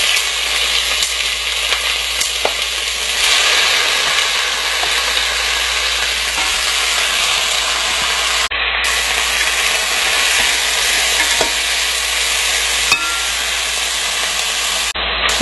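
Eight chicken pieces fry in a hot pan for maqluba rice, giving a loud, continuous, close sizzle with steamy hiss and occasional stirring scrapes throughout, with no talk.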